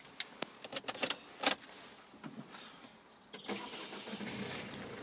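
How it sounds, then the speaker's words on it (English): A car engine cranks and fires up after a few clicks and key jingles, then settles into a quiet, steady idle close by, with no voices. "No problem starting the car at all."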